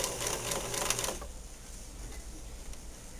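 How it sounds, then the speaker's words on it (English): Sewing machine back stitching fold over elastic, a short burst of mechanical stitching for about a second that then stops, leaving only a faint background hum. "now we're ready to sew. Back stitch a little bit to hold it."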